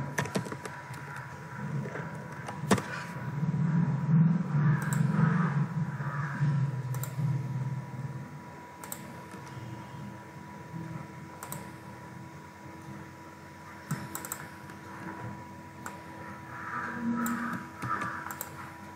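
Typing on a computer keyboard, with soft clicking keystrokes in short bursts over a steady background hum, close and without talk.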